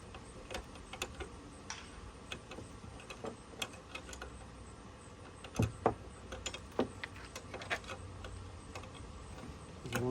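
Bolts are worked back out of a car's front suspension, with faint ratchet-like ticking and scattered light metallic clicks and clinks, including a few sharper knocks partway through.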